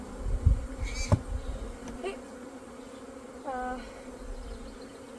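Bees from a nucleus colony buzz around an open hive box, a continuous low drone near the listener, with a brief spoken word and a couple of knocks early on.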